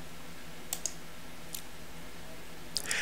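A computer mouse clicks the Continue button in tax return software while entering a client's Schedule C gross sales. A handful of quiet, sharp clicks come at uneven intervals, some in quick pairs, over a faint steady background hum with no talking.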